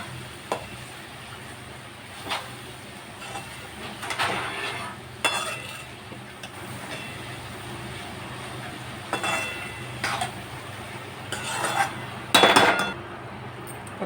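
A metal lid clinks onto a pan of prawn and raw cashew curry with a few light knocks and a brighter clatter near the end, over a steady low kitchen hum.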